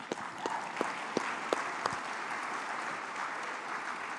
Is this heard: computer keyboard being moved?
no